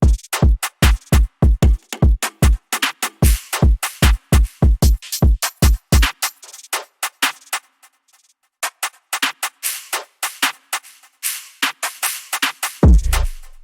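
Jersey drill drum pattern of sharp, punchy hits in a rapid bouncing rhythm, loud and close. A near-silent gap around the middle is followed by sparser hits, then the heavy pattern returns at the end, with no talking.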